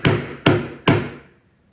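A hammer taps nuts into holes in an arcade cabinet during bodywork on a Spy Hunter restoration: three sharp, loud, evenly spaced metallic knocks, each ringing out briefly, close up and with no voices.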